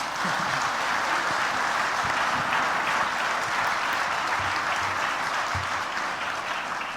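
Sustained applause from a church congregation at St. Peter's, a steady dense clapping that fills the whole stretch at even loudness with no talk over it.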